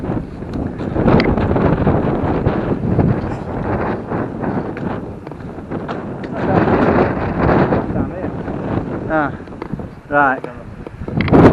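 Gusty wind buffets the microphone on a cool countryside walk around Holmfirth and Hepworth, rising and falling in loud rumbling surges while people talk throughout.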